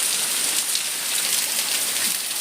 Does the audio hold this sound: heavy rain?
yes